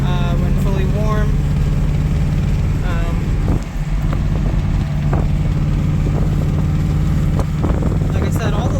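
A 1960 MGA Coupe engine idles with a steady, low, even hum that holds throughout, with a voice talking over it.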